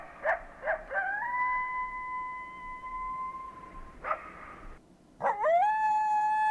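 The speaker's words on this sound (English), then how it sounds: "Coyote sound." A coyote gives sharp yips, then long, wavering howls that rise and hold. A brief pause follows before another layered howl, clear and fairly close.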